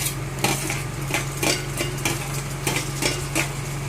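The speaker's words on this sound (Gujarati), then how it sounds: "અને હવે આપણે આ ટમેટા એડ કરી દઈશું" Tomatoes go into browned onions frying in oil for a mixed dal, with a spoon clinking and scraping in the pan in a loose rhythm over a low sizzle and a steady hum.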